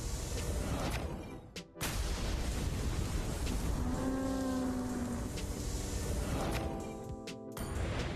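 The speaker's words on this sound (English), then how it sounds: "This one is called RBL recoil effect." A recoil effect from a video game sounds in heavy bursts: a booming blast, a short gap, then a rumbling, crackling wash with a tonal hum, and another sharp burst near the end.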